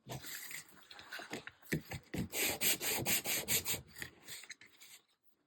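Rhythmic rasping strokes of sandpaper rubbing on a surface by hand, starting slow and picking up into a steady back-and-forth scrub before stopping.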